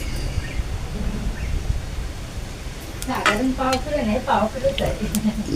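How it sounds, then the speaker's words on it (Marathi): Oil poured into a pan for a pea, potato and cauliflower curry, a low hiss at first and then clattering metal scrapes and stirring clinks in the second half, close and fairly loud. "तर आता मी याच्यामध्ये एक छोटी पळी तेल टाकतो."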